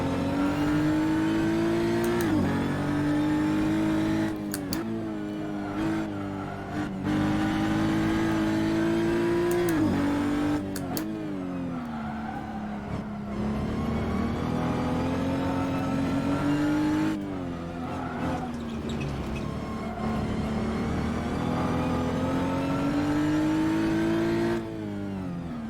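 A race car engine in a racing game on the Ahvenisto circuit, revving high and steady through long pulls, dipping briefly at each gear change or corner, loud and continuous with no voices.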